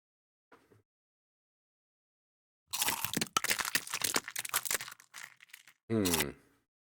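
A close, loud run of crisp crunching, like teeth biting into something crunchy, with a faint click before and a sharp crackle at the end.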